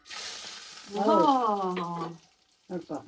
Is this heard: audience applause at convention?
no